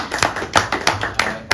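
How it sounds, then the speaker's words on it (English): A few people clap in a model UN committee session, sparse irregular claps of differing strength, close and distinct, with small gaps between them. "Clapping is now in order."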